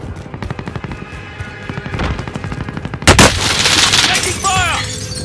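Gunfire in Call of Duty: Modern Warfare, a steady rapid machine-gun rattle throughout, loud and close, with a heavier blast and continued shooting toward the end.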